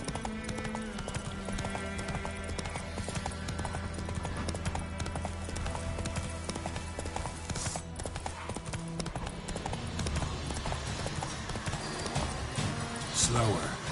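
Horse hooves clip-clop steadily in The Witcher 3 as the mount trots along, a continuous rhythmic beat heard over game music and ambience, with a voice talking over it.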